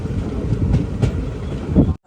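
Palaruvi Express pulling into Vaikom Road railway station, a steady close rumble of the train with soft rhythmic wheel clatter that swells near the end before cutting off.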